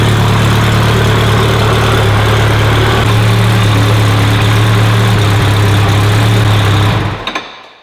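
A twin-turbo K-Series engine in a Honda NSX runs loudly at idle on its first start, with a steady, deep droning rumble, then abruptly shuts off near the end.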